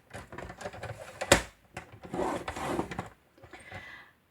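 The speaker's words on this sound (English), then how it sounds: "I'm going to score it on the short side first of all at 1/2" Shaded spruce card being scored on a scoring board, with a few short dry scraping strokes and one sharp tap, close and fairly quiet, no talking.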